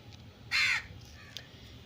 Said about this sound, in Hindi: कौवा है?